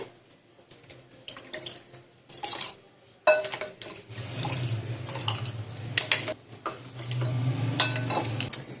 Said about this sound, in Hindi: अब ग्लास में डालते जाएंगे हम।